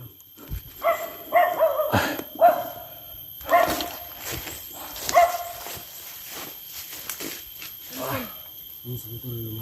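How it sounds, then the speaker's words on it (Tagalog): Dogs barking on a mountainside, several sharp barks spread across the clip, some close and loud, with rustling movement and brief voices between them. "Yun mga aso dito, no, sa bundok."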